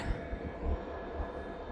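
A train rumbles faintly in the distance with a low, steady rolling sound and slight rhythmic thumps over a short stretch, with no voices.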